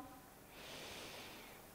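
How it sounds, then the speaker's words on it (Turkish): A single long, deep inhale through the nose during a kids' yoga breathing exercise, soft and close, swelling gradually into a breathy hiss that lasts almost the whole time. "Derin bir nefes al burnundan."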